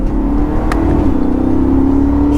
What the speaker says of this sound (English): taking my 600 horsepower M3 on a back road